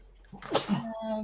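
A single sharp sneeze bursts out close to the microphone during a casual chat while someone paints a miniature bust, followed by a short voiced tail as talking resumes.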